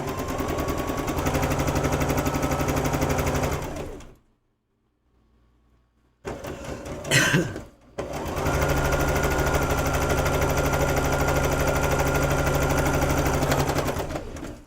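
A somewhat noisy home sewing machine stitches quilt fabric in fast, steady runs, loud and close, stopping for a couple of seconds of near silence and a brief clatter before resuming a long continuous whir.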